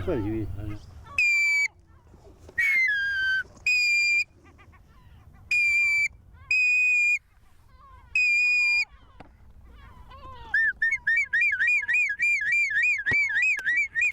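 A person whistles a series of short, high tonal calls, then a rapid warbling run of repeated chirps, imitating wild duck calls during waterfowl hunting, with some low background noise.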